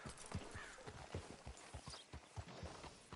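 Horse hooves clip-clop in a steady walking rhythm in Red Dead Redemption II, each footfall distinct and close, with faint game ambience behind and no talking.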